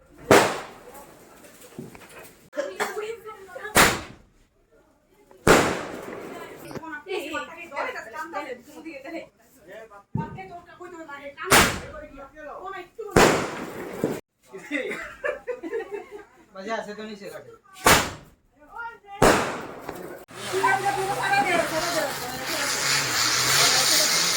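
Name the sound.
firecrackers bursting during Lakshmi puja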